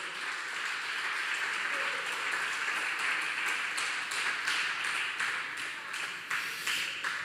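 A church congregation applauds loudly and steadily, dense clapping filling the space throughout with a few sharper claps standing out, no voices on top.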